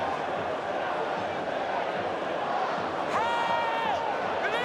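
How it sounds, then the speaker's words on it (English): A rugby league stadium crowd at Leeds versus Hull FC roaring in a broad, continuous din, with a commentator's voice rising over it near the end. "It's the whole crowd who are counting down"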